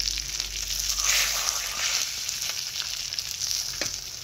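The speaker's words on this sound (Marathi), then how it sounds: "इकडं चाललंय तव्यात मासे तळायचं" Continuous crackling sizzle of semolina-coated fish frying on a flat griddle pan, close and steady, with a few faint clicks.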